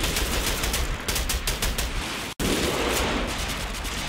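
Dense rifle and machine-gun fire from a World War II battle in the strategy game Combat Mission, with Sherman crews firing on German paratroopers at Chaumont. Rapid overlapping bursts crackle continuously, broken by one abrupt, near-silent cut partway through.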